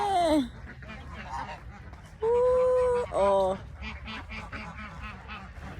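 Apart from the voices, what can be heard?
geese and ducks honking and quacking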